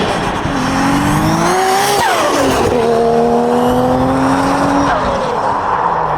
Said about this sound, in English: the turbo flutter that this car produced was insane.